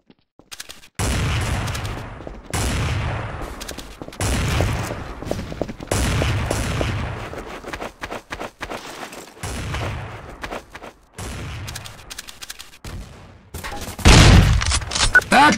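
Bursts of gunfire from Counter-Strike: Source come in repeated volleys separated by short pauses, loud and punchy, with a final intense flurry near the end.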